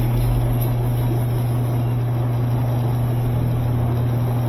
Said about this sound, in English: as it spins up, you get more and more vibration.